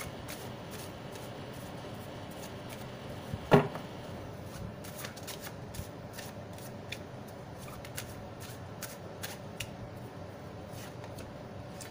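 A deck of tarot cards is shuffled by hand in a quiet room, soft riffling and light slaps recurring over several seconds, with one sharper knock near the start; close and fairly faint, no voices.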